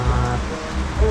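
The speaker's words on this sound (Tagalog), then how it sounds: "Tika-tikang ulan." Light rain pattering steadily on a surface at a house, a soft, continuous hiss of drops with no voices, holding an even level throughout.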